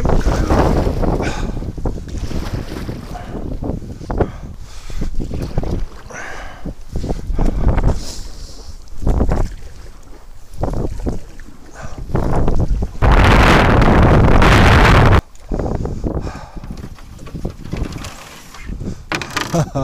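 Strong gusts roar across the microphone while a canoe is paddled on open water in winter, with loud buffeting bursts swelling and fading throughout, including a sustained heavy blast near the middle.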